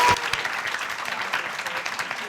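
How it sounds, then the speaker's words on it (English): Audience applause at the close of a panel discussion on diversity in the pro-life movement, a steady dense clapping from a crowd lasting a couple of seconds after an initial sharper burst. "Let's give our panelists a very big round of applause."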